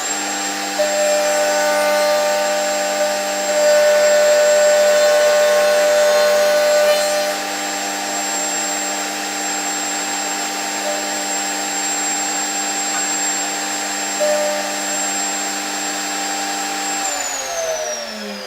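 A router on a router table cuts through timber, a loud, steady high-pitched whine with a constant motor tone. The pitch shifts slightly partway through the cut and winds down at the end.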